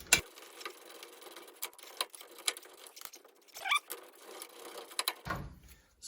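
Ratchet loosening the long 18 mm bolt holding the wheel hub assembly to the steering knuckle on a 2006 Dodge Ram 1500 4x4, giving quiet, irregular clicking bursts close by with brief metallic scraping, no talking.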